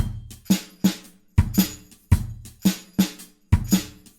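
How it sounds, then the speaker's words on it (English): A tambourine keeps a regular beat, bright jingling hits roughly every half second over a quiet low drum backing, close and alone without talk. "And our tambourine sounds like this."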